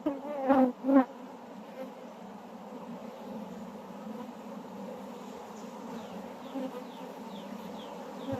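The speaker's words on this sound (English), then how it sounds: "as long as the bees lives in the hive" Honey bees hum and buzz steadily around an open hive during a honey harvest, a close, continuous drone with a few louder passes near the start.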